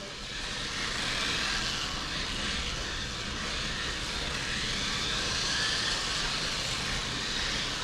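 A XOTIK XC324 rear-wheel drive RC car drives with a steady, faint whining motor hum that swells and fades slightly as it moves, heard alone at a distance.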